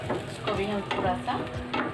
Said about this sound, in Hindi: अच्छे से भून लेंगे 2 से 3 मिनट इसके अंदर।